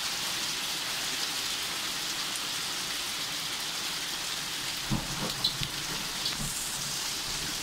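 Hail falls on an RV during a rare Southern California thunderstorm in the San Fernando Valley, a steady dense patter of ice on the roof with a few sharper, louder hits near the end.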